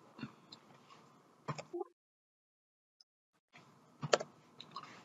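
A few computer keyboard keystrokes entering a shortcut in Autodesk Revit: sharp, close clicks in two short clusters separated by a silent gap, with faint room noise under them.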